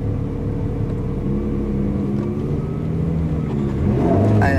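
A car accelerates at full throttle behind a line of cones, its engine holding a loud, steady drone that swells and rises in pitch near the end.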